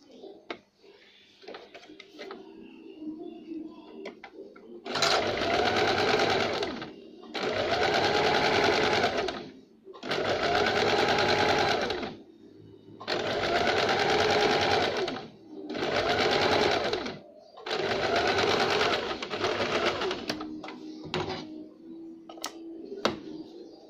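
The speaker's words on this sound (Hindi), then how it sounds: "दूसरा साइड का आर्म होल से सिलाई देंगे।" A sewing machine stitches a jumpsuit armhole in six steady runs of fast, even whirring, each a few seconds long, with brief pauses and faint handling sounds between them.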